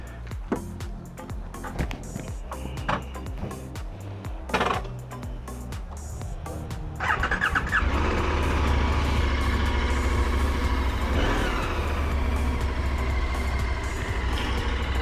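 A 2021 KTM Super Adventure motorcycle engine starts after some clicks and handling noises, then settles into a steady, loud, close idle with a deep low throb that runs to the end.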